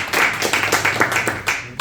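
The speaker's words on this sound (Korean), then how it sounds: "큰 박수 부탁드립니다" An audience at an aerospace industry academic seminar applauding a presenter, with brief, fairly loud, uneven clapping that cuts off abruptly.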